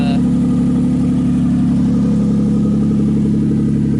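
A Toyota 2JZ engine in a drift truck idles loud and close, a steady, smooth rumble that holds its level the whole time with no speech.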